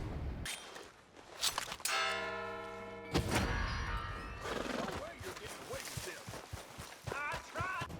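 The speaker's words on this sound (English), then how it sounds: "there's a tombstone adjacent to the railroad, ringing the road's bell at night" A roadside graveyard bell by a railroad at night in Red Dead Redemption 2, struck once with a clear ringing tone that hangs for about a second, set among horse neighs, hoof clops and footsteps.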